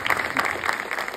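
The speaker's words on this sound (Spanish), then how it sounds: "Un aplauso para Martín" A comedy-show audience bursts into brief, dense applause, a wash of many hands clapping together at moderate volume, with no talking over it.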